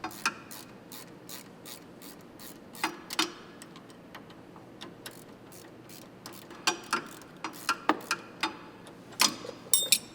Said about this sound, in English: remove the nut by using a 17mm wrench and a 5mm Allen socket